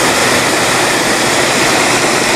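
Waterfall on the Life University grounds in springtime, a steady, loud broadband rush of falling water that holds constant throughout with no voices.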